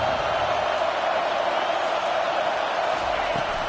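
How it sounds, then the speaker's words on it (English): A roaring stadium crowd at an American football game, a dense, steady wash of cheering held at one loud level throughout, with no break or swell. "Listen to the crowd energy here in the early going."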